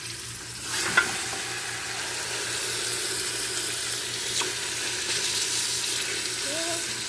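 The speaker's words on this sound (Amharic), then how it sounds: "ከዛ በኋላ በደንብ ማቁላላት ነው" Ingredients for kabsa stir-fried in a pan, a steady low sizzle running throughout with a couple of brief clinks of a utensil against the pan, moderately close and fairly quiet.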